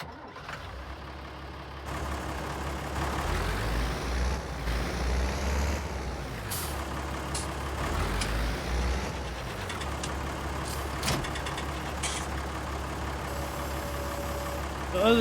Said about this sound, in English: And here is our new tractor.